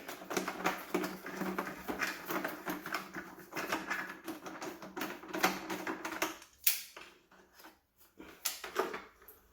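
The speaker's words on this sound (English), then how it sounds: "Let's unscrew that bad boy." A bolt unscrewed from a Vax vacuum cleaner during a motor replacement: rapid, close ratcheting clicks in steady bursts, then a few louder knocks and sparse clicks.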